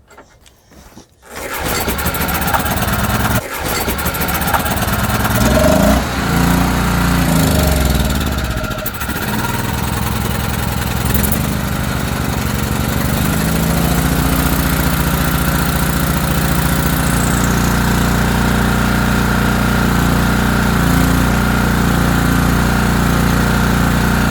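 ETQ portable generator engine sputtering to life after a quiet moment, then running loud and steady at a constant droning idle, close by and continuous with no talking.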